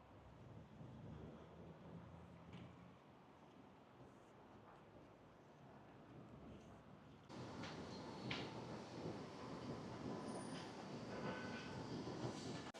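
A subway train rumbles steadily from a distance, then swells suddenly louder and nearer about halfway through. The broad, continuous roar carries no voices.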